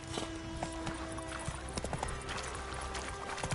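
Roach, a horse in The Witcher 3 video game, galloping with rapid, fairly loud hoofbeats in an uneven rhythm, joined by a brief whinny.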